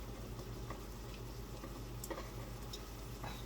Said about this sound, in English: It's sizzling up.